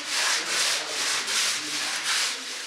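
Construction workers carry out a major renovation of a children's music school building. Loud close scraping strokes, like sanding or rubbing, repeat about six times at an even pace, alone with no talk.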